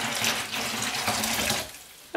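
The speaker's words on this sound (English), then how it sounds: "we'll pour it into another container" Hot water pours steadily from one container into another while mixing a JOBO C-41 press kit photo developer, a continuous splashing stream lasting about two seconds before cutting off, with no talking.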